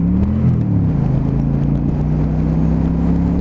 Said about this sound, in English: what you can do is get the power on the bike.